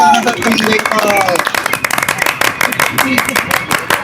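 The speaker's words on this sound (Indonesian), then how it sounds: "Tepuk tangan untuk tim Jengkol." Students in a classroom quiz clap for team Jengkol, a scattered round of hand claps building into brisk, loud clapping close by, with voices talking over it.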